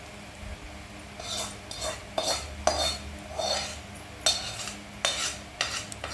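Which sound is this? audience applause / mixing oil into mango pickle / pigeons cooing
mixing oil into mango pickle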